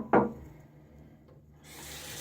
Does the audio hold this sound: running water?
yes